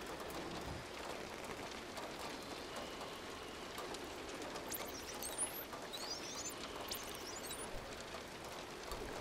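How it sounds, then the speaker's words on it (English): Rain in the video game Eternal Threads, a soft continuous patter of raindrops falling on surfaces, steady and fairly quiet, with faint chirping birds in the distance and no talking. "The rain is beautiful."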